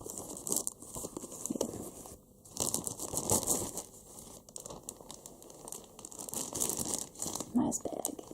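Plastic packaging bag of a 2018 Tomy 12-inch Shadow the Hedgehog plush crinkles and rustles in bursts of handling, fairly close, while a person talks over it.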